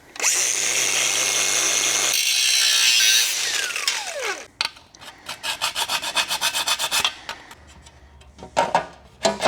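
On a Plymouth Road Runner, a power tool trims a new car part with a loud, close, continuous high grinding whine that winds down. Choppy bursts of rasping cutting follow, with no talk.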